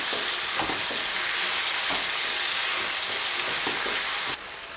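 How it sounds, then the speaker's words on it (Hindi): Brinjal (eggplant) sizzles steadily as it sautés in a hot pan, a continuous loud fry with a few soft stirring knocks, then the sizzle drops suddenly near the end. "बैंगन डालने के तुरंत ही इसको ज़रा इस तरह सॉटे करके हमें हल्दी डाल देनी है"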